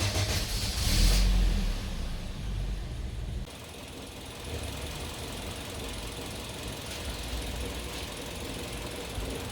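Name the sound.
car engine idling roughly with misfire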